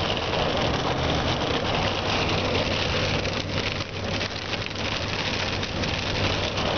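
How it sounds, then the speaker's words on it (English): Hail and heavy rain pelt steadily and densely during a storm chase in Kingman County, Kansas, a continuous loud patter with an idling vehicle engine underneath and no talking. "little bit of hail"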